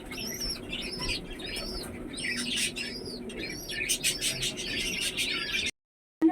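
Lokka pigeons feed their chicks close by, fluttering and chirping with repeated soft squeaky calls and wing flaps over a low background hum, ending in a brief silence.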